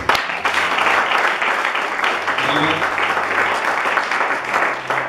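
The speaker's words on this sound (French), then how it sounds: "Est-ce qu'on va acclamer le Seigneur?" Congregation at a church service applauding and cheering for the Lord, a steady dense wash of clapping and crowd voices that holds at the same loud level throughout.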